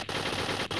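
Gunfire in a free-to-play shooter video game, a dense rapid burst of automatic shots that sounds loud and close, with a brief break near the end before firing resumes.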